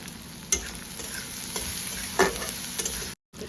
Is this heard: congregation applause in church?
no